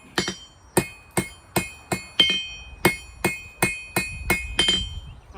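A hammer strikes hot metal on an anvil at a forge in a steady rhythm of about a dozen sharp, ringing blows, close and loud with no talking.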